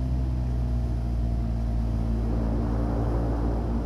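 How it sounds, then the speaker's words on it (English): Turboprop propeller wash from a Turbo Commander 690B taxiing in X-Plane 11, a steady loud droning rush with a low engine hum, alone. "You'll hear the prop wash when you do it."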